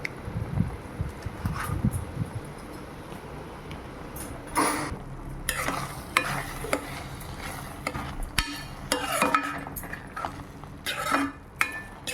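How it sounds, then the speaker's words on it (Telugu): A spoon clinks and scrapes against a pan as pav bhaji masala is stirred into the mixture, with irregular metallic taps and scraping strokes over a quiet background. "లాస్ట్ టచ్అప్ లెక్క పావుబాజీ మసాలా వేసుకొని బాగా కలుపుకోవాలి"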